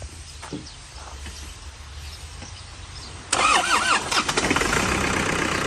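A used truck's engine cranks and catches about halfway through, jumping from quiet background to a loud, rough idle that settles into a steady rumble nearby.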